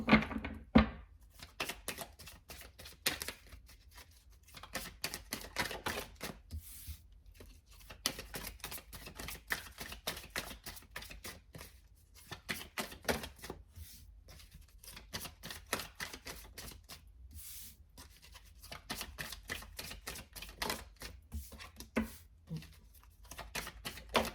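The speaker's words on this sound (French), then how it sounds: "je prends tout de suite quelques cartes de l'oracle des miroirs pour les poissons." Oracle cards from a mirror-themed deck being shuffled and handled on a table: a long run of quick, dry clicks and flicks in irregular bursts, close and fairly quiet, with no talking.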